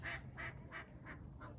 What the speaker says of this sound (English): been messing with these ducks the whole time